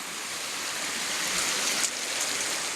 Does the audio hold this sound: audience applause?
no